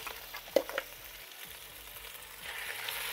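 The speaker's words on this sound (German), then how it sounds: "Das rösten wir jetzt mal richtig an" Goulash meat searing in a Petromax FT9 cast-iron Dutch oven, a soft steady sizzle with a couple of sharp clanks of a utensil near the start, fairly quiet and close.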